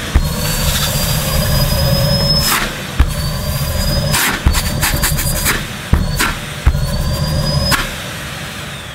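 A Numatic Nuvac VNR200 vacuum cleaner with a 620 watt motor runs steadily and loudly close by, a continuous whining roar with a high tone, interrupted by several sharp clicks and knocks.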